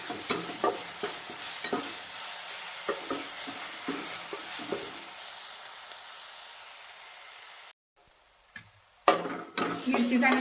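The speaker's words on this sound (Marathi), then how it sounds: "तेलात मिरची चांगली परतून घेऊ" Green chillies fry and get stirred in hot oil, a steady broadband sizzle with regular scraping strokes of a spoon, until a brief cut near the end. Brief clatter and sizzle follow.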